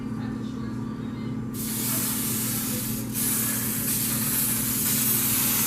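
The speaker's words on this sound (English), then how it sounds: "spray some Healthy Chef canola oil cooking spray in the pan" A can of canola oil cooking spray hisses into a pan in a strong, steady burst that starts partway in and keeps going, briefly dipping once before resuming, all over a low background rumble.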